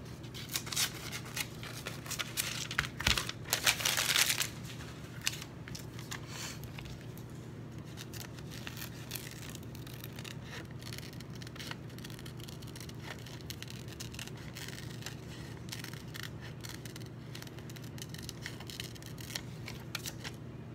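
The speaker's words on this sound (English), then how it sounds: "I gotta cut this out." Soft snips of scissors cutting a paper image out for an envelope collage, clustered in a brief busier patch early on, then sparse faint cuts over a steady low room hum.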